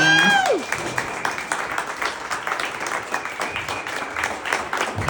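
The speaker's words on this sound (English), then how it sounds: "let's give Brenna one more round of applause" Crowd applause at a rally, dense clapping with a few cheers, following a short whistle-like sweep at the start and continuing steadily at moderate loudness.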